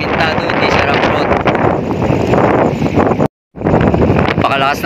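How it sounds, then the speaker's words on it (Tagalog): Strong, cold wind on a mountaintop buffets the microphone with a loud, constant roar and rumble, cutting out briefly before the gusting resumes. "Pakalakas ng hangin dito"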